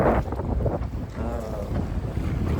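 Strong wind buffeting the microphone with low rumbling gusts on Lake Lavon, Texas, water lapping faintly underneath, no talking.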